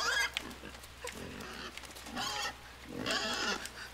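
A pig grunts in the video game Inside, with several short snorting bursts up close mixed with a few brief vocal sounds, over a low game background hum.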